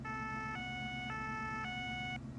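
A wailing two-tone emergency vehicle siren from Farming Simulator 15, on a Sprinter vehicle, alternates between high and low pitch in a steady rhythm, loud and alone for about two cycles before cutting off.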